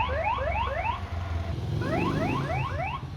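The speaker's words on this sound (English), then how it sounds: "there are these new e-bikes. They've been around for a year, and since they started popping up everywhere, they've been making alarm sounds" A repeating electronic e-bike alarm chirps in quick rising sweeps, in two bursts of rapid bleeps, over steady low city traffic rumble.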